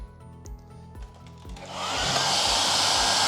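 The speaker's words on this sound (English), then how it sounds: "I will stick the hairdryer back in here to get that little patch dry." A handheld hair dryer starts up and blows steadily at close range, drying a small patch of fresh wax. It rises from a faint hum to a loud, even rush of air that continues alone to the end.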